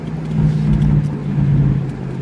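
2019 Ford Mustang GT Premium convertible with its V8 engine and exhaust, a steady low rumble that holds even and smooth throughout, close and moderately loud with no talking.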